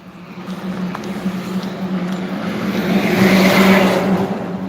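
Heavy trucks and cars roll past on a busy multi-lane road with no sidewalk, a loud continuous traffic roar that swells as a big vehicle passes close.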